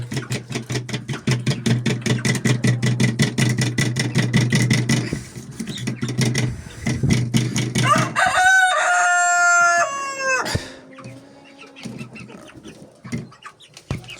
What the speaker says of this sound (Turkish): Burada da zaten horoz var.